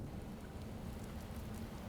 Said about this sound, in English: I love the fucking rain